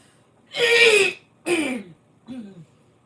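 Three harsh, throaty coughs in a row, the first longest and loudest, the last shorter and fainter, with brief silences between them.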